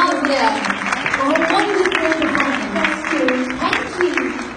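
Audience applause for a singer after a performance: steady, dense clapping from a crowd, fairly loud and continuous throughout, with cheering voices mixed in.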